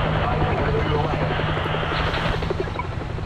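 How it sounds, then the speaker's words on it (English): A military helicopter's rotor thumps and engine drone run steadily throughout in the video game World War Z, Moscow level, with people talking over it. "Is that a helicopter?"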